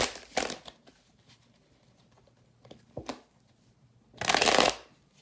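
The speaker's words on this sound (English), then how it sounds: "2 more shuffles." Tarot cards being shuffled in three separate bursts, a short riffle, a brief flick, then a longer louder riffle, close up with quiet gaps between them.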